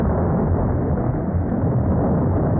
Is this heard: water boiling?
no